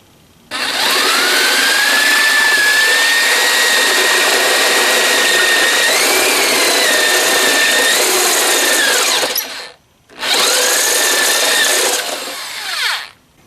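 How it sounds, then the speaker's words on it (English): A power drill with a step bit cuts through metal to 3/8 inch while mounting a Poison Spyder body-mount tire carrier, a loud sustained whine with rising pitch, a brief stop, then a shorter second burst. "Now I'm switching to the step bit, and I'm going to go to 3/8 inch as a stopping point."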